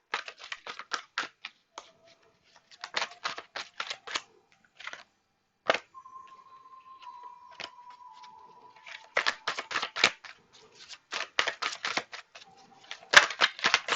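Thick tarot cards shuffled close up, dense runs of sharp clicking card snaps in quick bursts with short pauses between, plus a brief steady tone in the middle.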